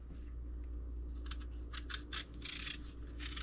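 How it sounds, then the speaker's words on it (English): Peeling an apple with a knife or peeler, short scraping and rasping strokes close up, repeated in irregular bursts over a steady low hum in a home kitchen. "I'm going to peel the apple"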